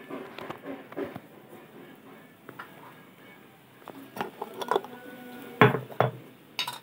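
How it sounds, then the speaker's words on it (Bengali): A spoon stirs ground mustard paste into a sour morola fish curry in a metal pan, with soft scrapes and scattered light clinks against the pan, quiet and close, with brief louder knocks near the end. "এটাকে ভালো করে একটু নেড়ে নেব।"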